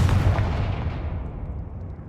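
A Confringo blasting spell explodes in a video game, one deep booming blast that rolls away and fades over about two seconds.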